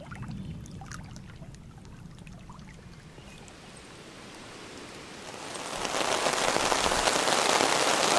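Rain falling at a campsite, a soft patter of drops on surfaces that builds into a louder, denser hiss of steady rainfall toward the end, with no talking.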